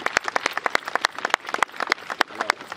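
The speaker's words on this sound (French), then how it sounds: "Je voudrais qu'on applaudisse très fort Madame la Présidente." Audience applause for the President at a flag-salute ceremony at CHU de Treichville hospital, heard as a brief spell of sparse, uneven hand claps from a modest crowd, fairly close and without talk.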